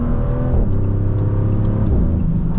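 A Maserati GranCabrio Trofeo with a twin-turbo V6 accelerates hard onto a highway from inside the cabin, giving a steady, loud engine drone and road rumble with no speech.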